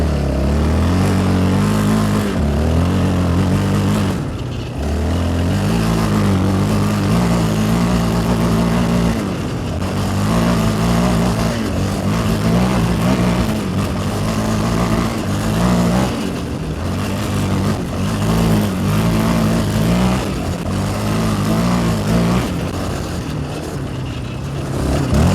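A Yamaha 700 Raptor quad engine pulls hard through repeated acceleration runs, its loud droning note rising in pitch, dropping briefly at gear changes, then climbing again, heard up close with wind noise and no talk.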